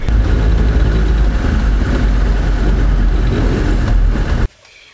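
Camper van engine pulling away, a loud steady close rumble with road noise that holds for over four seconds and then cuts off abruptly.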